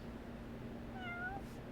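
A cat in the Yakuza: Like a Dragon video game gives a single clear meow, rising then falling, heard alone over a low steady game background hum.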